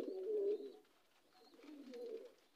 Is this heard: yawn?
no